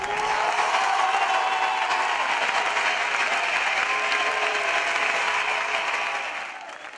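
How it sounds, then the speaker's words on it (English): Crowd applauding and cheering a president's speech about a Catalan Republic and the declaration of independence: dense, sustained clapping from many hands fills the space at steady loudness, then thins out at the very end. "People cheered the president's words when he talked about Catalan Republic"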